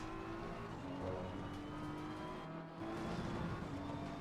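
Race car at full throttle in Assetto Corsa Competizione on the Nordschleife, a steady engine drone with shifting tones and a brief dip, heard alone without voices.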